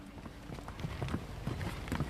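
Several horses' hooves clip-clop in a steady, overlapping rhythm, the horses of a Spanish conquistador expedition moving at a walk, fairly close and moderately loud.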